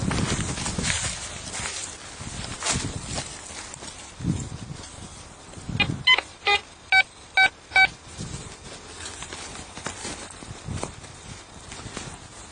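A handheld metal detector sounds several short, evenly spaced electronic beeps as it sweeps over a hole, mixed with outdoor scraping and thuds of digging at close range.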